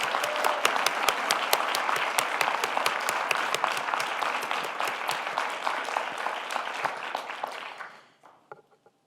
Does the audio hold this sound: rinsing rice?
no